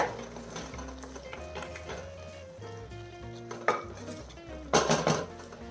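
A pressure cooker lid being fitted over squid on the stove: low kitchen rumble and light clinks, then a sharp metallic clank followed by a louder burst of rattling metal, with nobody speaking.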